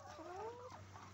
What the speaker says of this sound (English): Speaking of chickens, there are chickens right there